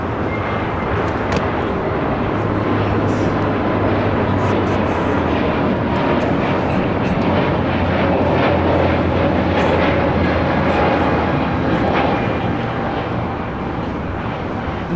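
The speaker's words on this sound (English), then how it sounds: "This is Spirit Airlines 266 taking off to Philadelphia on an A320 Neo." A Spirit Airlines Airbus A320neo takes off at LAX, a steady, loud engine roar filling the whole stretch without pause, with no talk over it.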